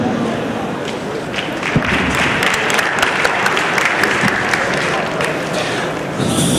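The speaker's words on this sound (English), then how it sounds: "Can we give them a warmer round of applause, please?" Summit audience applauding a mobility panel in Singapore, a steady, dense wash of clapping from a large crowd with some sharper individual claps standing out throughout.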